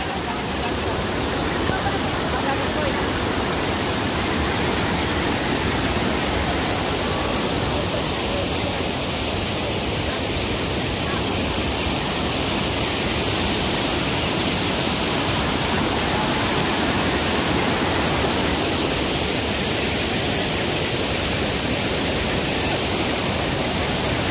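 Sabang waterfall in Cavinti, Laguna, a loud continuous broadband roar of falling water heard close up, with a voice faintly talking beneath it.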